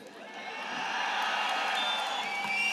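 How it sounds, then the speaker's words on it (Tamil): A large audience at a speech event cheering and whooping, a broad continuous roar of many voices with whistles that swells and then holds loud. "கூட்டம், அவ்வளோ பெரிய ஆரவாரம்."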